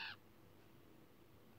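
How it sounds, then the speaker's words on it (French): A single short crow caw rings out near the start, then the scene falls to a faint, quiet outdoor background with no further calls. "les corbeaux prennent leur envol un par un"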